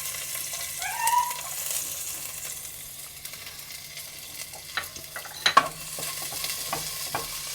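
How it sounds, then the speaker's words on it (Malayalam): Chopped garlic frying in sunflower oil for chicken noodles, a faint soft sizzle with a few light clinks and utensil taps and a brief high squeak near the start. "അതിലോട്ട് നമുക്ക് വെളുത്തുള്ളി അരിഞ്ഞ് വെച്ചിരിക്കുന്ന ഇടാം"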